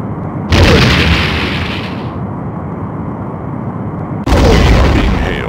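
Photon torpedo launches and blasts in the Star Trek: The Next Generation – A Final Unity space combat game: two loud booming bursts with a rumbling tail between them, dominating the soundtrack without speech.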